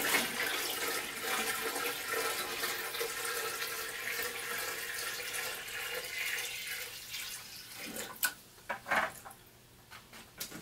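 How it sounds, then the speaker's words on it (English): Fresh water pours into an aquarium during a water change, a steady rushing splash that runs for several seconds before breaking into a few uneven gurgles and trickles near the end. "Now let's add our fresh water."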